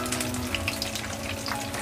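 Chicken leg pieces fry steadily in a pan as tandoori-style strips crisp up, a dense, continuous sizzle with faint crackles and pops throughout, close and alone with no talking.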